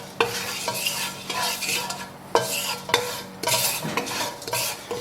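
A utensil scrapes and knocks around a wok as cracked pepper heats on low, with repeated sharp clacks over a faint sizzle and no voices.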